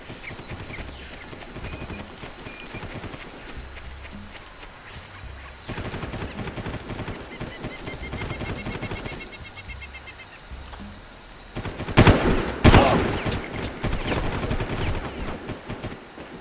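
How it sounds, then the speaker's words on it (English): Enemy gunfire in Far Cry: scattered distant shots pop and rattle under a low, busy ambient bed for most of the stretch, then a louder, closer cluster of shots and bursts arrives near the end. "These guys are actually shooting."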